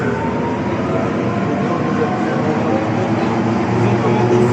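A Lille Alstom Metropolis metro train rolling along line 1, a steady loud rumble of wheels and motors filling the whole stretch without pause, with speech heard over it.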